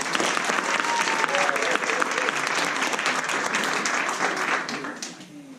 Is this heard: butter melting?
no